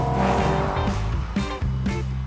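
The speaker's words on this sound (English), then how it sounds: "The engine fires smoothly, with little hint of the rasping character that's revealed as the revs rise." A four-cylinder Alfaholics GT-AR, a modified classic Alfa Romeo, revs loudly and continuously while driving, its engine note rising and dipping with brief gear-change breaks, close and steady throughout.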